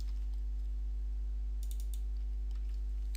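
A computer keyboard key is pressed a few times, giving faint, brief clicks that stand out over a steady low electrical hum in a quiet room, with no speech.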